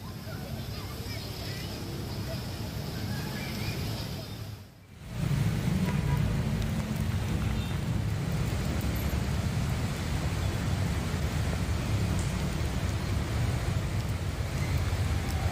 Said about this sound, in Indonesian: Hujan deras yang mengguyur Jakarta